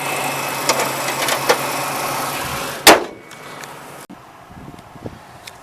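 The hood of a 1993 Ford Ranger XLT Supercab slams shut with one sharp, loud thud over the steady hum of the idling engine, and the engine sounds quieter and muffled afterward.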